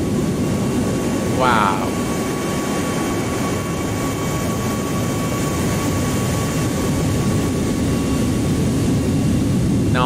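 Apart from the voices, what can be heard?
aircraft rolling down runway for takeoff in video game AirportSim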